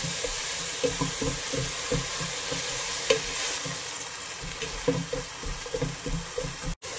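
Shrimp, bottle gourd and spices frying in oil and being stirred together, a continuous close sizzle broken by rhythmic spatula scrapes and taps, with a brief cut near the end.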